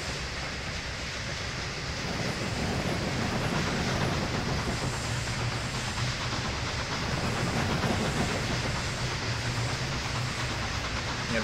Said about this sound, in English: an English locomotive with a train of American style passenger cars